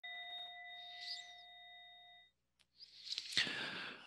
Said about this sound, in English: I'll ring the bell here so that you'll hear that if you have wandered away from your device